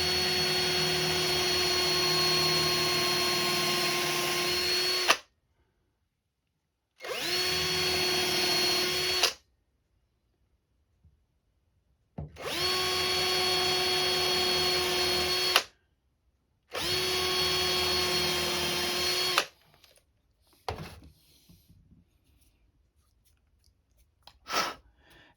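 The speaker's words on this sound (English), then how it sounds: "stick it on here and just drill my hole" A power drill whirs in four steady bursts separated by short pauses, drilling holes in wood, followed by a few faint knocks and scrapes.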